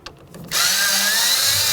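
A power tool drives in the window regulator mounting bolts on a 2007-2012 Dodge Caliber door, a short faint click, then a loud, steady whir running close up and alone.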